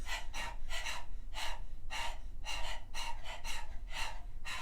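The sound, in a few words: rhythmic panting with open mouth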